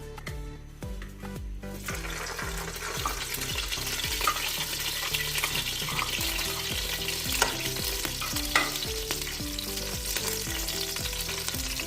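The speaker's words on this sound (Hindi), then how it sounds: "अब घी हम इसमें डालेंगे।" Ghee hitting Kabuli pulao in a hot pot, with a loud continuous sizzle and repeated stirring scrapes in a steady rhythm, no voices.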